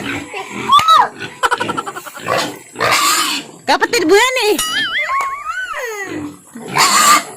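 Pigs grunt and squeal up close in a rural pen, loud bursts of rough snorting and high wavering squeals, mixed with people talking nearby.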